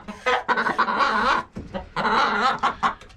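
Chickens in an overcrowded roost, one hen clucking and squawking loudly and insistently up close in rapid bursts, with other birds' calls mixed in.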